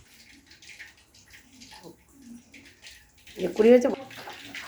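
Water runs into a sink while chicken meat is washed for lollipops, a low steady trickle that swells into a louder splashing gush near the end, with a voice speaking over it.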